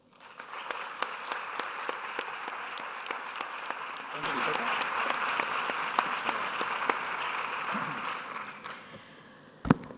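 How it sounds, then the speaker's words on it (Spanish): Sustained audience applause at a public cancer awareness conference in Coria del Río, dense and steady for about ten seconds, swelling midway before fading out, with a sharp thump right at the end. "permitidme pediros un fuerte aplauso para todos ellos"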